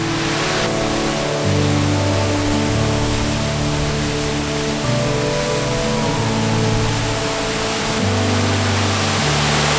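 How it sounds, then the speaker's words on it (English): Waterfall at a wild camping and trout fishing spot, a loud, continuous broadband roar of rushing water filling the whole scene with no talk, steady throughout. "I think this is yeah, the last waterfall"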